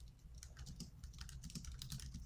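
Quick, irregular clicks of typing on a computer keyboard, close and fairly quiet, running steadily without a pause over a low background hum.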